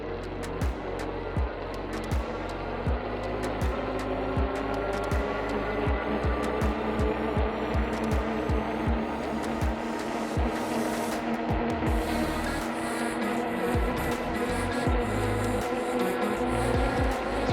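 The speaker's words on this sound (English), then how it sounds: "for this test, I'm gonna purely just use the throttle, and we're gonna see how the bike performs up this steep hill." An Engwe L20 cargo e-bike, 48-volt system, climbs a steep hill on throttle alone at about 15 to 17 mph, with a steady motor whine and constant road and wind rumble filling the whole stretch.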